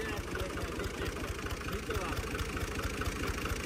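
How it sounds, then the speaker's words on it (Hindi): A tractor engine idles with a steady, rapid low-pitched chugging, loud and close throughout, while people talk over it. "उल्टा पीछे ही जा रहा ट्रैक्टर।"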